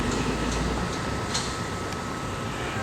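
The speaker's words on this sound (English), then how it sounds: "That was the end of the train." Steady broadband rumble and rushing noise, like a train rolling past nearby, with a few faint clanks and no voices.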